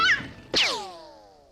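A cartoon cat lets out a short meow, then a loud, drawn-out yowl with falling harmonics that fades over about a second, with no talk.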